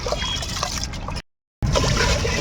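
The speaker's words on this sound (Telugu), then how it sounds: "బియ్యాన్ని శుభ్రంగా కడిగేసుకుందాం." Rice being washed in water for cooking on a wood-fired stove, close sloshing and trickling splashes broken by a brief silent gap, no talk.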